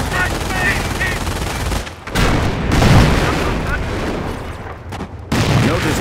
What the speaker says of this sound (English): Notice the Panzer's slow rate of fire.